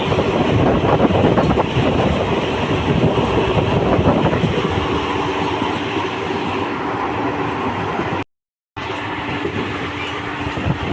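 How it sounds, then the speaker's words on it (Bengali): A train runs at about 100 km/h past Bandai village in West Bengal, a steady loud rumble and clatter of wheels on rails filling the whole stretch, with a brief dropout near the end. "ট্রেনের স্পিড এখন একশো একশো পাঁচ একশো দুই"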